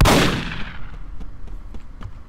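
A loud gunshot from the Roblox game Apocalypse Rising opens with a sharp boom that rings out and decays. A handful of fainter, distant shots and clicks follow, with no talking.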